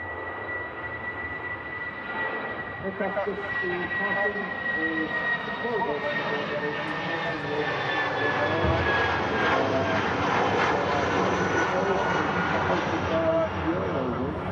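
Eurowings airliner departing Manchester Airport for Dusseldorf, its jet engines a loud steady roar with a high whine that builds as it rotates early, with people talking over it.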